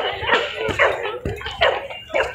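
A dog barks repeatedly in Central Park: about five sharp, yelping barks in a quick, uneven rhythm, loud and close.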